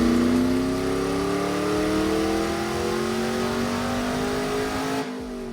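A 6.2 liter Chevrolet LS V8 engine, swapped into a Porsche 911, revs steadily upward with a rising growl, loud and close, then abruptly drops off near the end.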